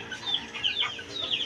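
Several chickens cluck and chatter close by as pellet feed is scattered for them, with quick, overlapping calls and no talking.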